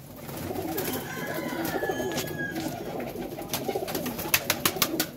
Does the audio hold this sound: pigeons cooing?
yes